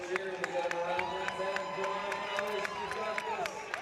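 A crowd at a high school track and field championship cheers and claps steadily throughout, with scattered sharp claps and a commentator talking over the noise.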